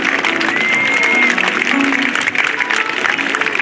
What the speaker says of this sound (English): Let's give them a big round of applause, Oceana.